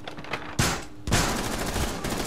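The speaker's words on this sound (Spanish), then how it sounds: "Ya empezaron los disparos." Rapid bursts of automatic gunfire ring out in Rainbow Six Siege, two sharp volleys crackling one after another with a dense rattling tail, fairly loud and with no talk over it.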